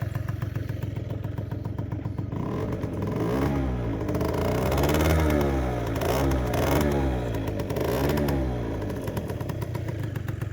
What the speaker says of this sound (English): Not the greatest cold start, but she's running.